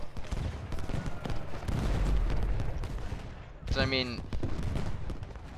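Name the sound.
gunfire of AI attack in video game Ultimate General Gettysburg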